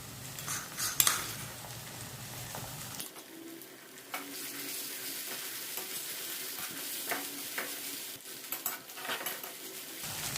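Ginger garlic paste fries in a hot pan and is stirred with a utensil, giving a steady loud sizzle broken by scraping and clinks of metal against the pan; no one speaks.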